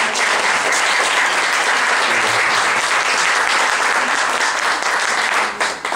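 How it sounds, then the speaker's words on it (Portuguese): A church congregation applauding during an evening service, a dense, steady wash of clapping from many hands that continues without a break before easing at the end. "Você pode aplaudir a Jesus nesta noite?"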